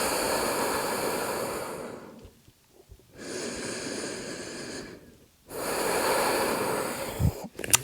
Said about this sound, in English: Take 3 deep breaths to recover.